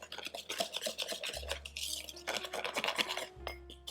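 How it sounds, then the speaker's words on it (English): Vegan chocolate cupcake batter made with almond flour is stirred in a bowl, giving close, continuous scraping and swishing with light clinks of utensil against the dish, steady throughout with no talking. "you want to get it mixed up pretty well so you don't have any little chunks of that almond flour in there"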